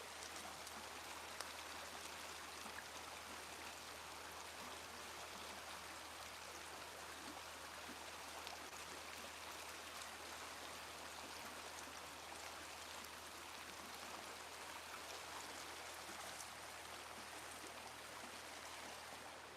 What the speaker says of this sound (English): I love the sound of water.